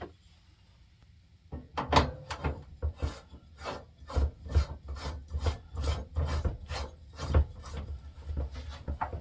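A propane tank is screwed onto a portable heater inside a camper, making a series of close, scraping and ratcheting rubs in an irregular rhythm after a quiet start.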